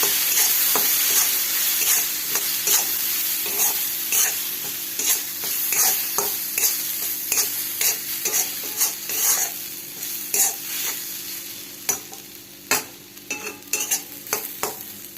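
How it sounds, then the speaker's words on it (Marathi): Peanut mhadya frying in a pan is stirred with a utensil, giving a rapid run of sharp scraping clicks over a low sizzle, the strokes growing sparser and more distinct toward the end. "जरा हलवून घेऊया"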